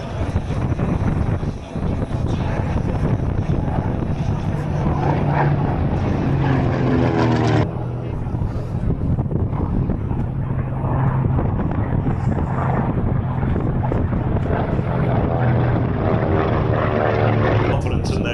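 A big radial single-engine propeller warbird flies alongside another aircraft at an air show, its loud throbbing drone continuous and close throughout, with wind buffeting and a voice heard over it.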